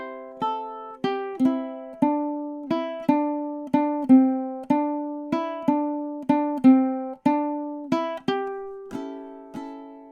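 A ukulele plays a song through measure 21 with two down strums per chord, a steady rhythmic series of bright, evenly spaced chord strums ringing out close and clear, with no voices.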